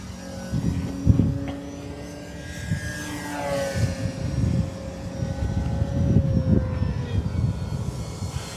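An Arrows Bigfoot 1.3 m RC model airplane flies past with a droning propeller motor whose pitch rises and falls, growing louder as it passes and sustained throughout.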